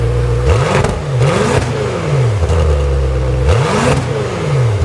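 A BMW M5 F10 fitted with a Miltech exhaust line revs hard and loud, close by, with repeated rising-and-falling blips and throaty roar, no talking.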